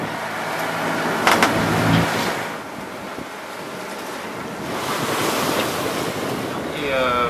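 Ocean waves break and wash under a strong southeast wind of about 17 to 18 knots, with gusts buffeting the microphone and the surf swelling and easing in loud, continuous surges.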